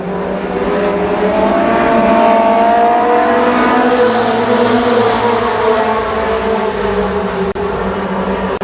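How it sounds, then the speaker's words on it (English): A pack of twelve ARCA Pro 4 race cars roars around Columbus Motor Speedway during a ten-lap heat race, a loud, sustained blend of engines droning and rising in pitch as they pass. "12 cars, 10 laps for the first ARCA Pro 4 heat race"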